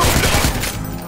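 A loud, rapid burst of gunfire in the video game Watch Dogs crackles close by, then trails off into a fading rumble.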